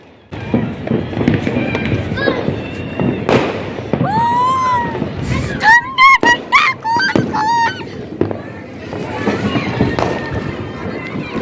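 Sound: firecrackers bursting on a rooftop

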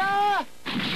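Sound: cartoon bomb explosion hitting a character

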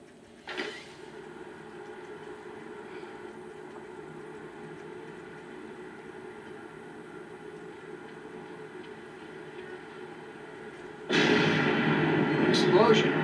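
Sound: explosion in a video game

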